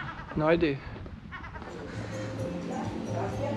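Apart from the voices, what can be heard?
street cats meowing in Sozopol, Bulgaria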